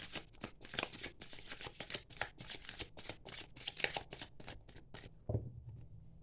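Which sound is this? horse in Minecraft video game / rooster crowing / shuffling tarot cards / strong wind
shuffling tarot cards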